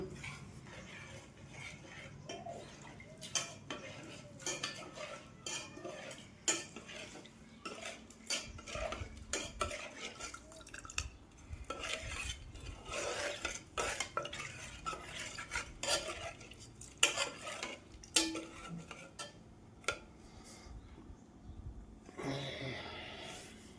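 A spoon stirs Ugadi pachadi mixed with pounded pepper and jaggery in a metal vessel, producing many soft clinks and scrapes over a long stretch, close but quiet, with faint background murmur.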